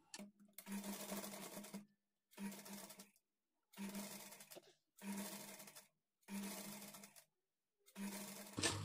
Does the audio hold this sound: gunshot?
no